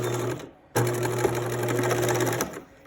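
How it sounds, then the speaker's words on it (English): A sewing machine back stitches on a blouse with a short, close mechanical whir, a brief pause, then a longer steady run of stitching. "Keeping one toe off the edge, doing an edge stitch."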